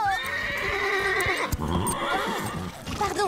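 A cartoon horse whinnies shrilly while hooves clip-clop in a quick galloping rhythm, close and loud, with music and a brief shout in the mix.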